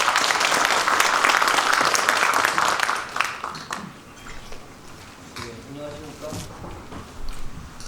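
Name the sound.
audience applause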